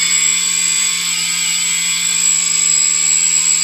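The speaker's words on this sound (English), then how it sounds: "this being the front of the quadcopter, this motor's spinning clockwise" A quadcopter motor on an X580 build spins up close and loud, producing a steady high-pitched whine with a constant tone and no pauses.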